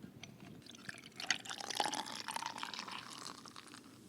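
Olipop vintage cola soda is poured out onto a small table, making a soft, continuous liquid splash with faint fizzing and dripping, steady and fairly quiet with no talking.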